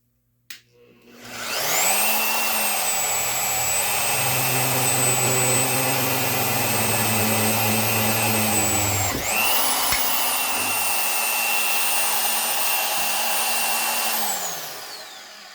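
A Vevor magnetic drill press runs through a metal drilling job, its motor spinning up to a loud, steady high-pitched whine that holds, dips briefly midway, then winds down near the end, with no voices.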